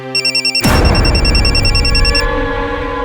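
A telephone rings in quick electronic pulses, then a loud broadband rush cuts in and masks it while a faint high ringing tone carries on underneath in a crime drama scene.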